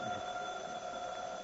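A home telephone rings in an old radio comedy, a steady electric ringing tone that fills the whole moment at moderate loudness, with no voices over it.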